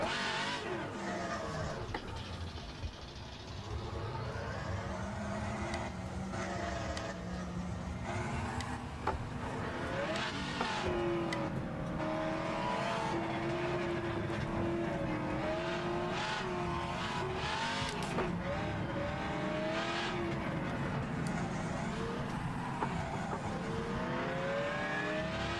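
V8 race cars in rFactor 2 club racing, engines howling and revving continuously close by, with rising and falling pitch as gears change, some tire squeal and skidding, and no talk.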